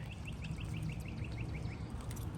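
Birds chirping outdoors near a dog park, a quick rhythmic run of about ten bright chirps from one bird, fairly close, over a low rumbling background.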